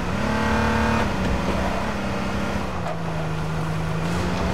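A car engine in the video game H1Z1 drones steadily at a moderate level, its pitch easing down slightly midway as if the revs settle, with no speech over it.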